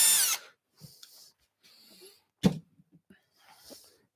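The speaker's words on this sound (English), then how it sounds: "got to drill a hole across it" A 2mm drill bit bores a hole across a small wooden turned bauble in a woodworking shop, heard as several short, close whirring bursts separated by pauses.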